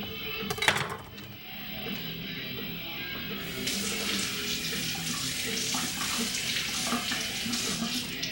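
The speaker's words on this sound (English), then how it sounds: "I'm going to clean a piece of celery" A piece of celery is rinsed under a running kitchen tap, with a steady close hiss of flowing water that grows fuller midway, preceded by a brief clatter of handling.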